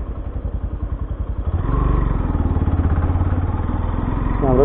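A small motorbike rides over a rough, wet rural road in Kailali, Nepal, its engine putting out a close, loud, pulsing thump that firms into a steady throb, with a voice speaking briefly.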